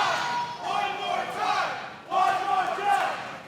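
Crowd cheering at an outdoor street-fight wrestling match in Pasadena, rising and falling roars and shouts in surges from a gathered audience.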